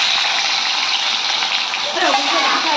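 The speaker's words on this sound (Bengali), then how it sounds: "তাহলে আমি মাছগুলো এখন ভেজে নিচ্ছি।" Fish frying in oil in a home kitchen, a loud, steady sizzle and spatter that holds throughout without pause.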